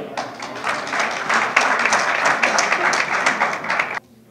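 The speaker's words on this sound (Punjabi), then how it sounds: "ਤੁਸੀਂ ਆਪਣੇ ਲਈ ਇੱਕ ਵਾਰੀ ਤਾਲੀਆਂ ਵਜਾ ਦਿਓ" An audience at a Punjabi community gathering in the US claps for about four seconds in a dense, steady burst of applause that cuts off sharply.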